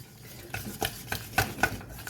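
A whisk works a paste in a hot pan for Greek pastitsio, giving several scraping, tapping strokes against the metal at an uneven rhythm, close and moderately loud over a faint background hiss, with no talking.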